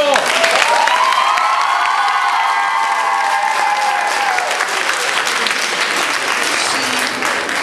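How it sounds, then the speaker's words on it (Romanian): An audience at a high school freshman ball applauds loudly and steadily, with some cheering and a brief whistle-like tone early on, the clapping holding strong to the end. "Încă o dată vă rog să-l aplaudați."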